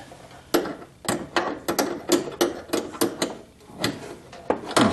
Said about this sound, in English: I'll try to get a wrench on that and tighten it.